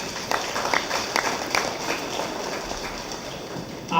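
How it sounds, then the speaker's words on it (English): A crowd claps for kids showing a pair of steers in the ring at a junior beef expo, a steady roomy patter of applause with a few sharper claps, heard from a short distance. "let's give these kids a round of applause"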